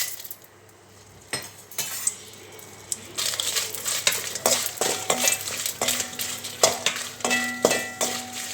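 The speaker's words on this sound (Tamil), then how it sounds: "மிளகா நல்லா வறுபட்டு வச்சுங்க, எடுத்துக்கிறலாம்." Dried red chillies roasting in a pan for a green mango chutney, quiet at first, then rapid repeated stirring scrapes and metallic clatter over a light crackle, growing busier toward the end.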